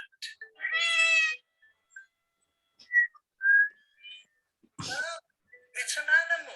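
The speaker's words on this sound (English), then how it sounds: "Cat." A cat meows several times in clear, drawn-out cries, with short whistle-like tones between them in an otherwise quiet space.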